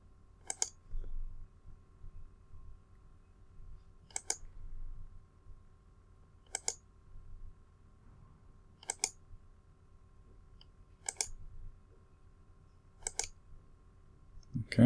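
Mouse clicks while an axial trace line is drawn with a straight-line segment tool, seven sharp single clicks spaced a few seconds apart, close and clear over a faint low hum.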